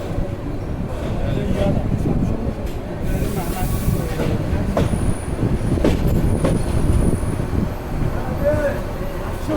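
Upaban Express, a night train from Dhaka to Sylhet, rolling into Bhairab Bazar Junction station: a steady, loud rumble of wheels on rails with occasional brief squeals and hiss, with voices underneath.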